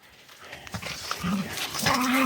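A dog whines and whimpers close by in short rising cries, with some shuffling movement and a low murmur in the background.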